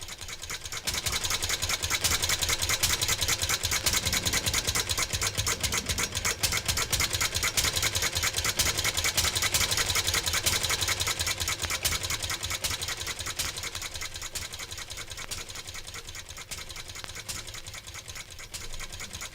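A sound-effect engine representing Henry Ford's quadricycle chugs continuously with a rapid, regular putter, loud and steady before easing slightly toward the end, with no talk over it.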